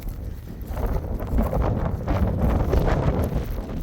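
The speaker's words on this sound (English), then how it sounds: "Ooh, it's so windy out here." Gusty wind buffeting outdoors over a farm field, a rough rumbling roar that swells and rises steadily, loud against the microphone.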